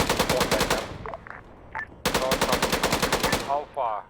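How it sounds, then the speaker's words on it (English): Rapid bursts of automatic gunfire and rocket fire in a military video game, loud and dense, broken by a brief lull before a second volley. "Rocket fire."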